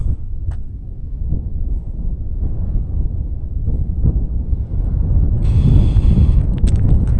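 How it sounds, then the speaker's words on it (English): Strong desert wind blowing sand roars and buffets the microphone in a continuous low rumble, gusting louder toward the end, in Oman. "Can you see the sand flying away? I think I'm gonna camp around here. It's windy."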